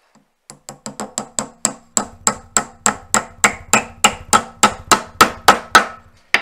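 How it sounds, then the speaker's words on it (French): Steady hammer strikes drive a nail into a wooden friction trainer, about eighteen sharp, ringing blows in an even rhythm that grow slightly louder, close up with no talking. "maintenant on va mettre le clou"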